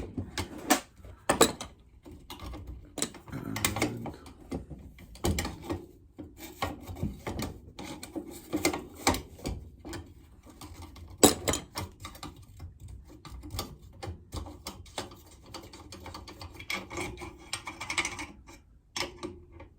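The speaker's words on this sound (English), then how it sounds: "Then you can put your favourite spanner on the top. Give it a tweak." A spanner works a nut on a paraffin blowtorch, giving irregular close metallic scrapes, clicks and rasping bursts with short pauses between them.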